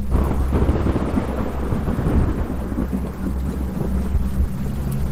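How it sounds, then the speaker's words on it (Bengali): Heavy rain pours steadily with deep thunder rumbling underneath, a dense, continuous roar that stays loud throughout with no voices. "বৃষ্টির বেগটা আরো বেড়ে উঠল।"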